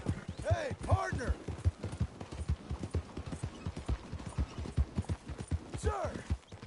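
Horse hooves clop in a quick, uneven rhythm close by in Red Dead Redemption 2, with a few soft vocal sounds mixed in over a low hum.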